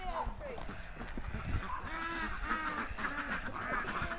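Ducks quacking in a sloped farm enclosure with a built water area, repeated nasal calls in a steady chorus close by, mixed with other farmyard fowl.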